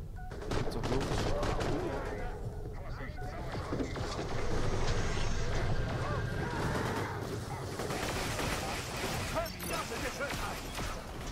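Rapid video game gunfire from Borderlands The Pre-Sequel rattles in dense bursts, mixed with explosions and crashing impacts while someone talks over the fighting.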